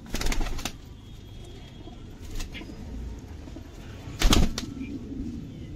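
Soft cooing from a flock of about 60 pigeons in the background, with a couple of brief louder flutters like wings flapping nearby, in an otherwise quiet setting.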